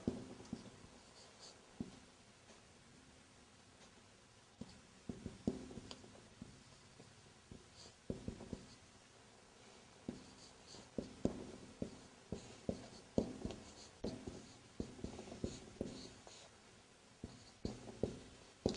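A pen writes on paper in quiet bursts of soft scratching strokes and taps, close and faint, with pauses between the strokes.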